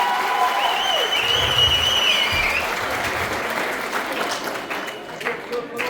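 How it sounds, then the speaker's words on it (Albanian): Sustained applause from a large crowd at a high school graduation ceremony, a steady wash of clapping that carries on throughout, with a voice briefly audible over it. "ju lutem për një duartrokitje tjetër të madhe për gjithë profesorët dhe stafin e shkollës"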